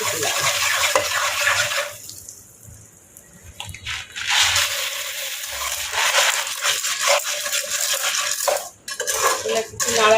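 Popcorn being stirred in a hot pan on a home stove, with metallic scraping and clattering of a utensil against the pan, brief quieter gaps, then renewed rattling and stirring close by.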